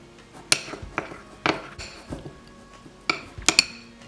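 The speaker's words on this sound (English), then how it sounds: "Stir well to avoid burning." A spoon clinks and scrapes against a bowl of melted chocolate in several separate taps and stirs, close and fairly quiet, with soft gaps between strokes.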